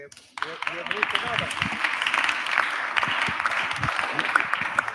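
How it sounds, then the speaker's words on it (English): After a short quiet moment, a congress hall audience bursts into sustained applause, the clapping continuing steadily with some crowd voices and a speaker's voice woven through it. "So I think he deserves an applause."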